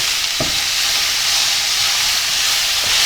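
Steady loud sizzling of pork belly being stir-fried in a hot pan on an induction burner, with a couple of brief clanks of a utensil against the pan.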